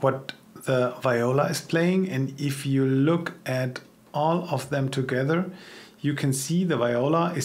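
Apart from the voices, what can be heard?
No everyday noise stands out behind the speech.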